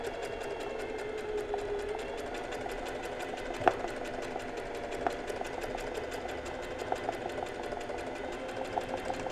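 Domestic sewing machine running steadily while embroidering with a straight stitch only, a continuous close mechanical whir with rapid even needle ticking and a couple of sharper clicks, no voices.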